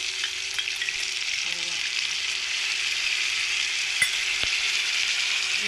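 Ginger garlic paste sizzles loudly in a hot pan for a stingray fish curry, a constant close frying crackle with a few faint clicks of a utensil and no talking.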